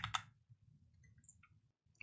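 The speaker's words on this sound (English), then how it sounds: "I'll press a button and it displays pressed to the screen" A computer keyboard key is pressed, giving a quick pair of crisp clicks right at the start, followed by faint, quiet room tone.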